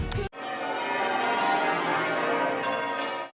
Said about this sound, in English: The churches were so alive with their ringing of the bells